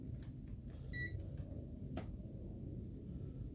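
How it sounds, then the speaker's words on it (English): A single short electronic beep from an electrical tester sounds faintly during alternator replacement on a 2008 BMW X5, followed by a soft click against a quiet background hum. "Right guys, so you should hear a beep."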